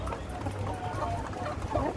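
Brahma hens cluck and murmur steadily nearby against a busy farmyard background, with no one speaking.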